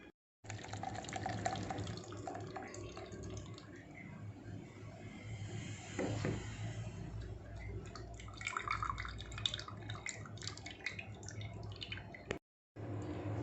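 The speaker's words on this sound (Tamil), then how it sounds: "தேங்காய் பாலை வடிகட்டி எடுத்துக்கலாம் ஒரு பாத்திரத்தில்." Coconut milk strained into a vessel while making Chettinad paal paniyaram, giving a steady trickle and drip of liquid that runs almost unbroken throughout, close and fairly loud, with a short silent gap near the end.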